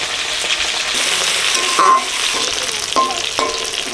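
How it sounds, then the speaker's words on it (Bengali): Fish fries in oil spiced with turmeric, chili powder, cumin and salt, with a little water added to the pan. The loud, dense, steady sizzle is close up, with occasional stirring clicks and no talk. "অল্প করে জল দিচ্ছি সাইপন মাছটা ভেজে নিচ্ছি"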